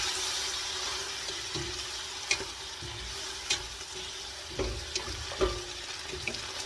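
Collard greens frying in a hot pan, a steady moderate sizzle with several distinct knocks and scrapes as they are stirred, close by and with no talking.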